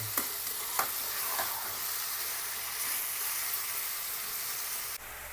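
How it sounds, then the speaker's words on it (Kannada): Peanuts fry in oil for a poha seasoning, making a steady, loud, hissing sizzle that runs evenly throughout, broken by a couple of brief clinks near the start and cutting off abruptly just before the end. "ಪರ್ಫೆಕ್ಟಾಗಿ ಫ್ರೈ ನಡೀತಿದೆ ರೀ ಅವಲಕ್ಕಿ ಸ್ವಲ್ಪ ಶೇಂಗಾನ ಫ್ರೈ ರೀ ಚೆನ್ನಾಗಿರ್ತದೆ"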